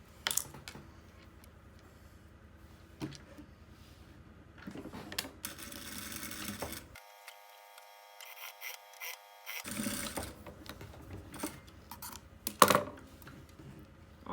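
A sewing machine stitches lace trim onto a fabric seam for a handmade hygiene kit, running in a few short, buzzing bursts separated by pauses and quiet handling.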